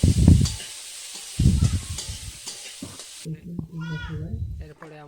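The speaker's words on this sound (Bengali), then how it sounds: "ফ্রাইড রাইসের জন্য কাজু কিশমিশটা ভেজে নেব। এটাও ভেজে নিচ্ছি।" Cashews and raisins fry in hot oil for fried rice, a bursty sizzle with stirring clatter in the first seconds before the sound drops to quieter background as a voice talks.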